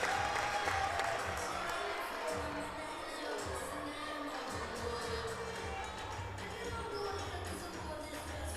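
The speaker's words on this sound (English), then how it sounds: "The crowd's cheering her on here, trying to give her that level of confidence back" A gymnastics arena crowd at a Denver versus Ohio State meet cheers and claps steadily for a gymnast on the balance beam, a continuous wash of applause and shouts at moderate level throughout.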